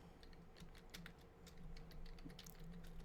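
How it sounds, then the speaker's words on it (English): Keys clatter in quick, irregular bursts on a computer keyboard, close and fairly quiet, with a low steady hum underneath and no talking. "really start typing."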